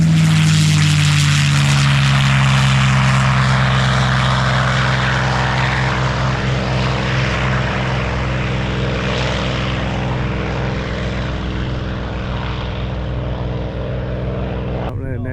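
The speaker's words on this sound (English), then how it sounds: "The P51 Mustang." A P-51 Mustang propeller plane runs its engine with a deep, steady roar that is loud and close at first, then slowly fades and thins as it moves off, ending in a brief knock.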